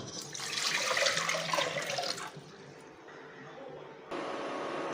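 Water pours steadily into a cooking pot for basmati rice payasam for a couple of seconds, then the flow quiets and shifts to a softer running trickle.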